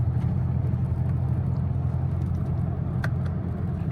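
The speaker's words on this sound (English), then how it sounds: "We're driving around in M mode with rapid shifts and not shifting" Car engine in manual mode with rapid shifts, a steady low rumbling drone heard from inside the cabin at a constant level, with no clear shift changes.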